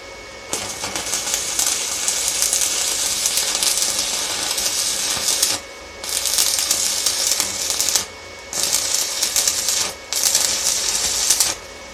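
A loud, steady crackling hiss of an MMA stick welding arc from a Stal MMA 250 welder runs in long bursts, cutting out briefly three times before restarting.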